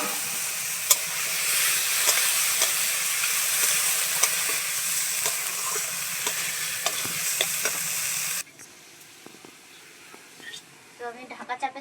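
Sliced potatoes dropped into a spiced masala in a village kitchen set up a loud, steady frying hiss and sizzle with scattered stirring clicks, then the sizzle cuts off sharply and a quieter stretch follows with faint scrapes.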